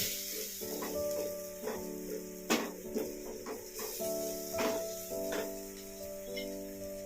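A couple of eggs fry and get stirred in a pan for egg kari dosa; soft sizzling runs under a sustained tonal hum, with scattered scraping stirs, close and moderate in level, without speech.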